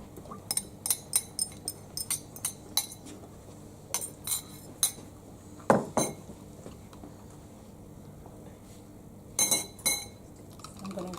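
An egg cracked and added to a bowl of savoury muffin ingredients, heard as a series of light, close clinks and taps against the bowl in quick clusters, with a louder knock midway and more clinks near the end, no talking.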